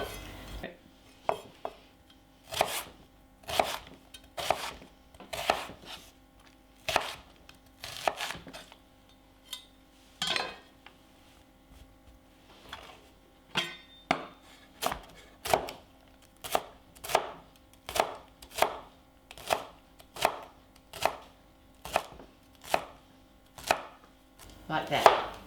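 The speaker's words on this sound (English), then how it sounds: "I just find it easy to chop it in half like that first." Leek is sliced on a chopping board with a knife, about twenty-five crisp, evenly spaced chops that briefly pause near the middle and then resume, close and clear with no talking.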